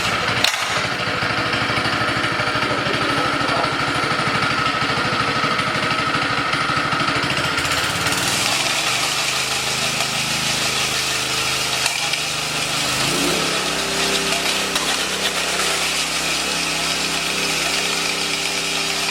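Honda GX160 engine on a 24-inch CTE 424 power trowel starting and running, a loud continuous engine drone that shifts in pitch as it settles into a steady run, alone without talk.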